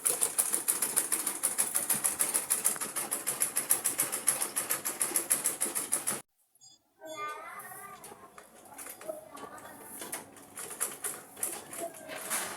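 Sewing machine stitching around a bag flap: a fast, even run of needle clatter for about six seconds, a short pause, then lighter, uneven stitching sounds.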